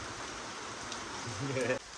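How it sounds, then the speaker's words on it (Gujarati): Steady rain falls outdoors on a farm, a dense even hiss throughout, with a voice briefly audible near the end. "આ જો આવી રીતે વરસાદ પડે છે"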